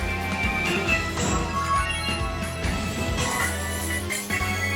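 Game music from Mario Kart Tour's Madrid city track carries a guitar solo over a steady, full backing, loud and continuous throughout with no voices.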